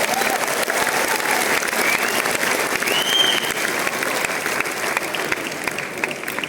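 A large audience at a National Sports Day event gives sustained, loud applause for athletes, a steady wash of clapping from many hands with a few crowd voices mixed in.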